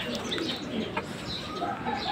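Racing pigeons coo softly at a loft during a race day, a few soft throaty calls with faint chirps over a quiet outdoor background, moderately close.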